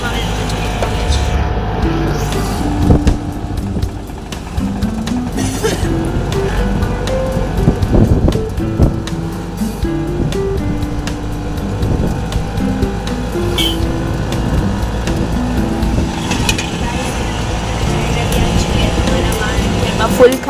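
Wind buffets the microphone while riding in a moving auto rickshaw, a loud constant rumble and roar with engine drone underneath, and voices talk over it at times.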